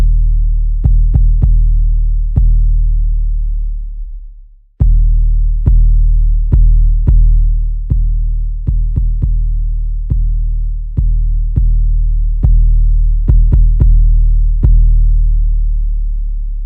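VIPSL 808 sub bass played with the bass warmer engaged: deep, booming sustained bass notes retriggered in an uneven rhythm, each with a sharp click at the attack, continuous except for a brief dip and swell near the start.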